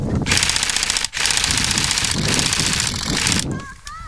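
Rapid automatic gunfire in a video game, with dense bursts of shots that break briefly after one second and stop near the end, while voices are faintly present.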